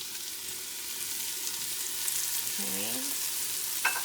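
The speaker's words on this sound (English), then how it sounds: "your peppers have been sauteing up for just about 2 minutes" Peppers and zucchini sauté in a pan for chili with a steady, close sizzling hiss, broken by a brief scrape of stirring and a single short spoken word near the end.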